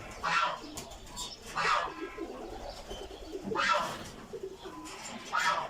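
Pigeons coo in repeated soft, throaty bursts spaced a second or two apart, fairly close, at a pigeon loft on a farm, over quiet background noise.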